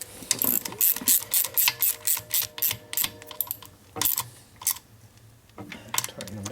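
A ratchet tightens bolts on a 1992 Harley FXR Evolution 88ci motor during an engine rebuild. It gives a close, steady run of rapid clicks in short bursts, with brief pauses between strokes.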